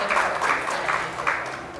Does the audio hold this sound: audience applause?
yes